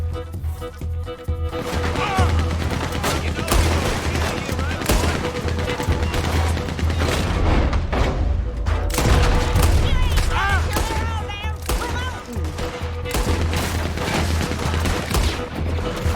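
Gunfire in the video game Red Dead Redemption II, dense loud bursts of rapid shots and booms through most of the clip, with a player's voice talking over the fight.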